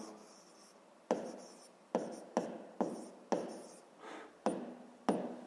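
Pen strokes on paper while a math word problem about a jar and sugar is written out, a series of about eight short scratchy marks spaced irregularly, close and fairly quiet with no talking.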